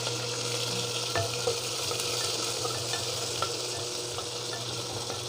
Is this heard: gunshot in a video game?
no